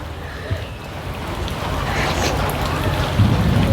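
Rain falling outdoors, a steady broadband patter that swells slightly louder as it goes, with no clear talk over it.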